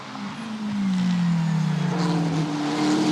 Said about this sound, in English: So Pret's job is to now get those cars out of the way